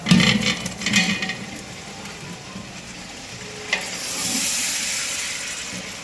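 A utensil stirring chopped tomatoes and green chilies in a pot for chicken biryani, a steady soft sizzle with scraping strokes, one sharp clink midway, and a brighter hiss rising toward the end.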